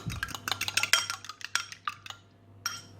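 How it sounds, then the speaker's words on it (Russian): A fork beats a single chicken egg in a bowl, a quick run of light metallic clinks and taps against the dish that slows and fades, with a steady low hum in the background. "Теперь берем одно куриное яйцо, вот так вот взбиваем вилочкой"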